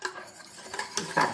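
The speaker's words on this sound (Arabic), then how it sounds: "نحركو مزيان حتى ينسجموا لنا العناصر كامله." A spoon stirs cake mixture in a bowl for an Oujda-style cake, giving a short run of close clinks and scrapes that grows louder toward the end.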